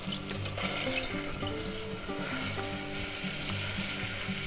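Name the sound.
butter melting and sizzling in a soup pot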